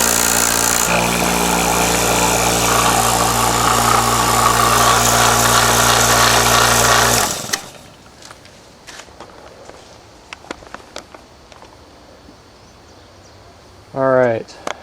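A vacuum pump evacuating the A/C system on a 1996 Buick Roadmaster runs loud and steady with a dense motor hum for about seven seconds, then cuts off abruptly, leaving quiet with scattered small clicks and a brief rising whine near the end.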